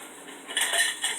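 A spoon clinks and clatters against dishes in a sink of dishwater during home potato canning, a few light metallic knocks with brief splashy rustle, close by and fairly quiet, no talking.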